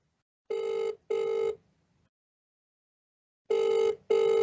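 An outgoing phone call rings back with two pairs of loud, steady double rings separated by a silent gap, clear and close.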